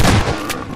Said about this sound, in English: 4 shots!